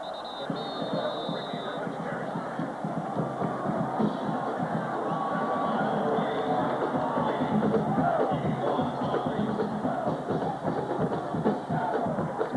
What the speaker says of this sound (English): The crowd coming up for it.